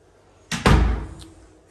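Door to the garage of a model home swinging shut, a quick latch tap then a heavy close thud that rings briefly before fading, nearby and loud.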